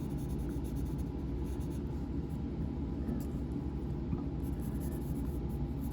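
Pencil shading on paper for an anime character drawing, a soft continuous scratchy rubbing with steady pressure, faint and close, no talking.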